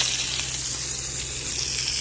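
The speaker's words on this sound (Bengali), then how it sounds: "এই যে এটা কিন্তু সোনাবাইন ভাজা হইতেছে" Sona bain sea fish fries in oil on a boat, a continuous loud hiss and sizzle close by with a low steady hum beneath and no talk.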